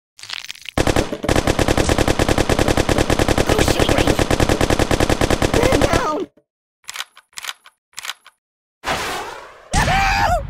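Rapid automatic gunfire from the shooting range in the Kick The Buddy mobile game rattles loud and continuous for several seconds, followed by short separate bursts and a final volley.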